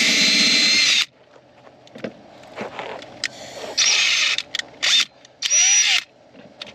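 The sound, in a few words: drilling a pilot hole with a drill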